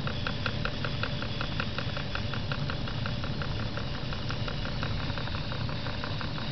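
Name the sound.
1940s Jensen 25 steam engine running with heavy flywheel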